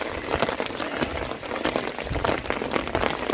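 Rain falling steadily outdoors around a person walking a bay in Berlin, a dense close patter of drops on surfaces forming a continuous wet hiss with no voices.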